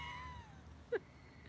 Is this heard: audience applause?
no